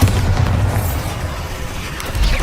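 A Bombarda explosion spell going off in the Hogwarts Legacy game, a deep booming blast with a rumbling tail that swells again near the end, loud and close.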